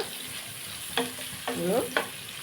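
Cumin seeds and dried chillies frying in hot oil for a Telugu dried prawn curry with sesame flour, a steady low sizzle with a few sharper crackling bursts as they are stirred.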